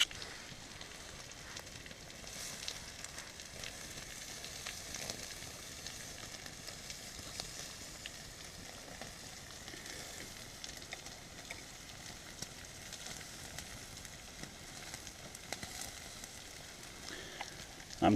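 A steak cooks over an open flame outdoors, producing a faint, steady sizzle and crackle that continues evenly with no talking.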